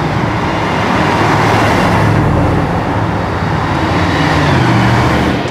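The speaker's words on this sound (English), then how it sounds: "The first challenge is the drag strip, where the SLSs accelerate to top speed and then have to brake very quickly" Mercedes-Benz SLS sports cars on a drag strip, a steady loud engine roar with broad road and exhaust noise throughout, no speech.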